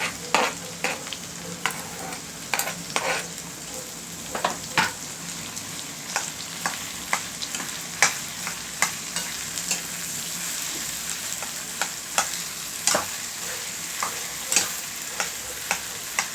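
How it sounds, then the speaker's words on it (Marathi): Garlic tempering for masoor dal sizzles steadily in a pan, with frequent sharp stirring clicks and scrapes over the constant frying hiss, close and without talk. "छान लसणाच्या फोडणीचं"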